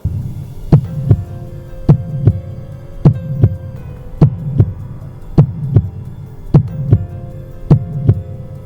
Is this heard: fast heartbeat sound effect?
yes